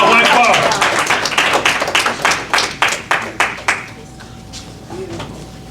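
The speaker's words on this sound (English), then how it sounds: "Round of applause, please" A small audience at a recognition certificate ceremony claps, the sharp individual claps forming a loose, thinning rhythm before stopping, followed by quiet room sound and a brief voice.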